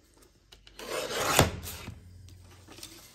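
A blade slices through paper, trimming it for an accordion trifold craft. It makes one short rasping cut that builds to a crisp peak, followed by faint rustling, close up with no talking.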